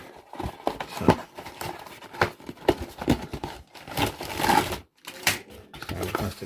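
A plastic bag crinkles and rustles as a Warlord Games M10 Wolverine model kit is unboxed. The crackling bursts are irregular and close, with brief pauses and a few handling knocks.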